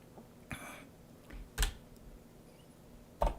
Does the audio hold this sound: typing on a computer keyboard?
yes